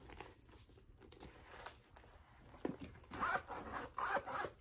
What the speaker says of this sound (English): the zipper was fine